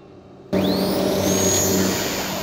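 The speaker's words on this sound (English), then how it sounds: "Let's go for your maiden flight, the T-28. It's time for takeoff." An Eachine T-28 Trojan RC plane's electric motor spins up suddenly from quiet into a loud rising whine that holds steady as it takes off from a runway, with no talking.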